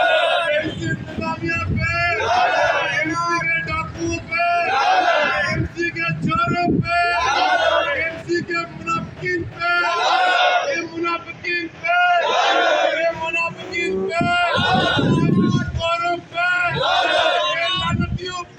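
Retired employees at a protest rally chant slogans together, with loud, rhythmic bursts of massed voices rising and falling in repeated call-and-response waves, close and continuous.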